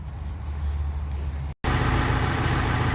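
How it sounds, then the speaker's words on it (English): A 2017 Ford Transit with the 2.0 TDCI diesel idles after a service, a steady low mechanical drone up close, briefly cut by a split-second gap before resuming slightly brighter, with no talking. "Now the engine is running, the service is done"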